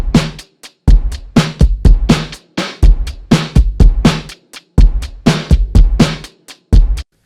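Full drum beat built from a drum rack of 808 samples with layered hi-hats, booming low 808 hits and punchy kicks in a steady repeating pattern, loud and close with no voices over it.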